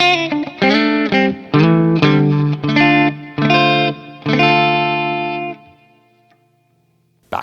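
A Squier Stratocaster electric guitar with the bridge and neck pickups on together plays a short run of bright, ringing chords and picked notes, then a final chord fades away and leaves near silence.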